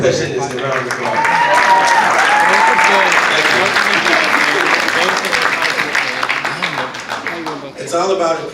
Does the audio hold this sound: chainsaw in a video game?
no